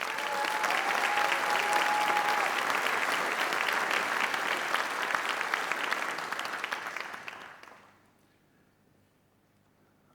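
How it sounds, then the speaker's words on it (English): Dense, loud audience applause fills a keynote hall at the Waves '24 event, holding steady for about seven seconds before fading quickly to near silence. "So please give yourself a big round of applause for that."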